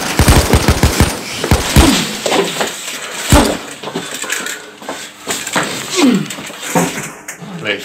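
Loud, close bursts of rapid gunfire in an animated action film open the scene, then give way to scattered impacts, clatter and voices talking.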